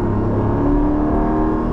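A Porsche 718 Cayman GTS 4.0 in Python green revs its engine loudly and continuously, a strong steady roar with a rising tone and no one talking over it.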